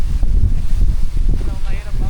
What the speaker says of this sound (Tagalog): napakalakas po ng hangin dito